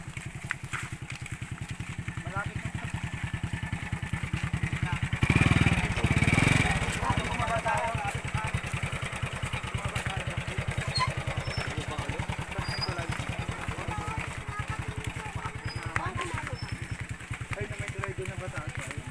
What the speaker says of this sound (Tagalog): Ang daming motor eh.